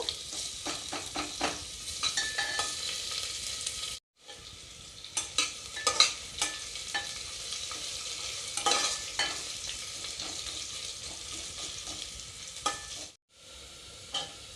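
Onions frying in a pan for tomato bath, a soft continuous sizzle with repeated clicks and scrapes of stirring, two brief silent breaks, close and fairly quiet without speech.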